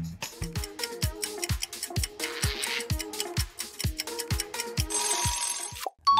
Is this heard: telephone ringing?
yes